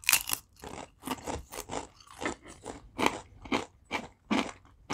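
Close, loud crunching and chewing of a plain corn chip, with a rapid series of sharp, irregular bites and crackles continuing for several seconds and no talking.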